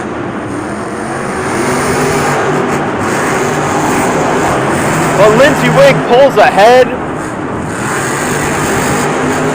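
Monster trucks from Monster Jam Houston 2018, among them the Lucas Oil Crusader and El Toro Loco, roar steadily while racing through the arena, with a loud commentator talking over the engines throughout.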